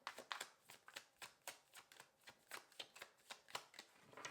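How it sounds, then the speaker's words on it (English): A deck of tarot cards being shuffled up close, a rapid, even run of crisp riffling slaps and flicks, about three per second, with no talking. "Okay, one more shuffle."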